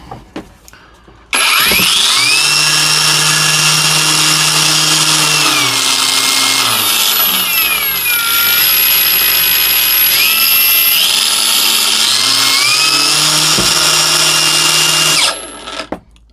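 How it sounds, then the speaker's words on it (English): A Parkside Performance brushless cordless angle grinder whirs up to a loud, high-pitched spin, its tone dropping and rising as the variable speed is adjusted, then winds down after about fifteen seconds. "Let's see what the variable speed's like on it when we have it open."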